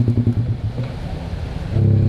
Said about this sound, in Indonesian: Nah, ini suara knalpot SC Project coy.